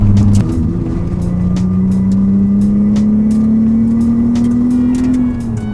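A 1990 Nissan 300ZX with a 3-litre naturally aspirated V6 revs hard under acceleration, its loud close engine note climbing steadily in pitch for several seconds before easing off, with no talk over it.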